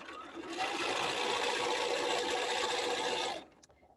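A sewing machine stitches fabric for a pot holder in a short, continuous whirring burst of rapid mechanical clatter up close. It stops abruptly near the end, leaving a few faint handling sounds.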